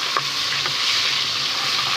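Chopped tomato and ginger-garlic paste fry in ghee with a steady close sizzle and faint stirring scrapes, no voices.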